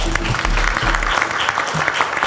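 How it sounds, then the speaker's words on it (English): Audience applause at the second North Sea Summit, an energy-focused conference: a brief, loud, dense wash of clapping from a crowd, steady throughout. "Give them another applause."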